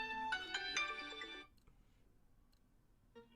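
Mobile phone ringtone plays a bright repeating melody for about a second and a half, then cuts off, leaving quiet room noise with a brief faint tone near the end.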